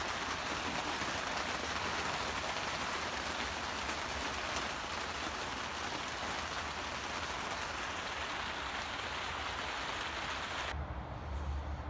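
Steady rain hisses down evenly and without a break, then cuts off abruptly near the end.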